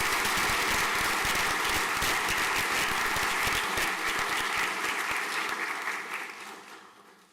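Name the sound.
applause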